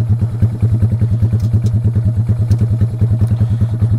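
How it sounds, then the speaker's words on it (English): A Honda Grom motorcycle engine idles steadily outdoors in Florida after starting, its low single-cylinder thump pulsing in a fast, even rhythm, close and loud throughout with no talking. "All right, let's get this bike started. Let it warm up for a minute."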